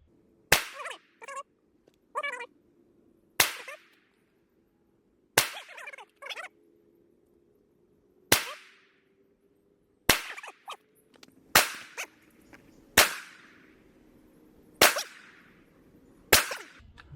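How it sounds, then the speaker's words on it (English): A pistol is fired until its magazine is empty at an outdoor shooting range: about ten sharp, loud cracks at an uneven pace, each followed by a short echo. "Just go ahead and empty the magazine. Shoot at your pace."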